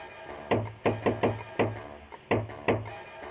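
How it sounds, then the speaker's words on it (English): A secret knock raps on a motel door in the game Jazzpunk: about seven sharp knuckle hits in an uneven coded rhythm, close and distinct, alone without talk. "Knock on the door using the secret knock"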